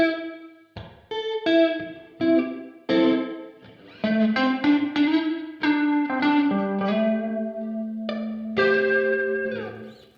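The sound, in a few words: Meris Mercury X reverb with compression on the reverb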